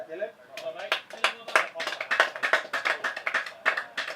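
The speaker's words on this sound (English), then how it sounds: "A nice round of applause for the 16-year-old." Scattered clapping from a small crowd at a Sussex Cricket League match, Hailsham v East Grinstead, uneven and sparse, with a voice talking over it throughout.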